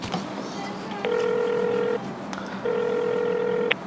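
A mobile phone call goes through: a short dial blip, then two long ringback tones, each lasting about a second with a pause between, clear and close over a faint room background.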